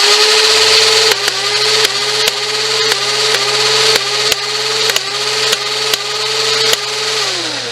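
A toy blaster spins up with a steady motorized whine and fires single shots at a regular rhythm, about ten sharp clacks, each briefly dipping the motor note, close and loud.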